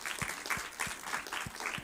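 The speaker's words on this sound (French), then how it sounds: "On peut les applaudir peut-être pour leur souhaiter la bienvenue." An audience at a church service claps to welcome newcomers, a modest, even patter of hand claps with a soft rhythmic pulse, heard alone without talk.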